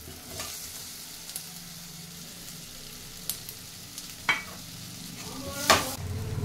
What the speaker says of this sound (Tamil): பேபி உருளைக்கிழங்கு நம்ம லேசாக எண்ணெயில் வதக்கிட்டோன்னா கொஞ்சம் டேஸ்ட் கொடுக்கும்